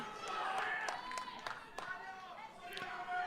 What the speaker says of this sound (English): The crowd is really cheering him on